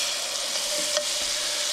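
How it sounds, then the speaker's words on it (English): Mushrooms and minced garlic sizzle in a hot skillet, a steady close hiss of frying that carries on evenly with a faint stirring scrape. "Get the sizzling, which is good."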